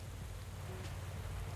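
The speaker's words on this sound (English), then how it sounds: "Wind and rain." Rain in the cycling video game Pro Cycling Manager 2015 during a wet, windy race day, a steady, dense hiss of falling rain over a low rumbling background, continuous and faint.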